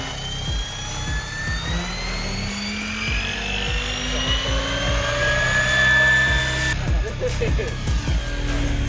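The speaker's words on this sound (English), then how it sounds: "We're all doing some drone flying" A drone flies outdoors at a snowy track with a mini snow bike, a continuous whining buzz whose pitch rises and falls as it manoeuvres, loud and near, with voices talking over it.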